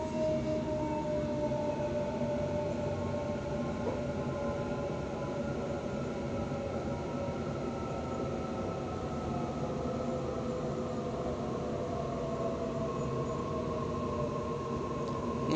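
A T1 Western Line train rolls into East Richmond station, a steady low rumble of wheels with tonal whines sliding gradually downward as it slows, heard from inside the carriage.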